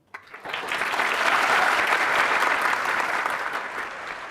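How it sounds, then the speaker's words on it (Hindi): An audience claps steadily in a hall at a motivational business talk, a dense, loud round of applause that swells quickly after a sharp start and holds without voices on top. "अब जब मैंने बोला आपने तालियां बजाई"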